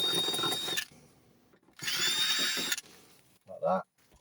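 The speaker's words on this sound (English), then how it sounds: "So we'll just drill out the original hole." A power drill bores out an existing hole in the swivel seat base of a VW T25 T3 Caravelle, running in two close bursts of about a second each, with a short voice afterward.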